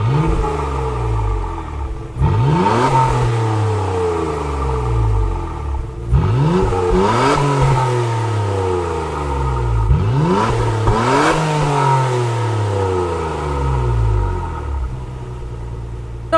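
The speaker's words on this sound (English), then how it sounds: "Let's go to the other car then that we can buy, which is the Nissan R32 GTR Nismo." In Gran Turismo 7, a Nissan R32 GTR Nismo engine revs loud and close in four distinct bursts, each rising sharply and sliding back down to a rumbling idle, with no speech.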